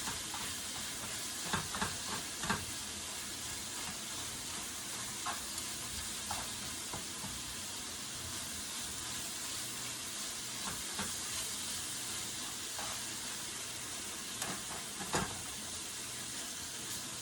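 Bacon and other yakisoba ingredients fry in a pan with a dense, constant sizzle and hiss, broken by scattered clicks and scrapes of tossing and stirring, close up and without talk.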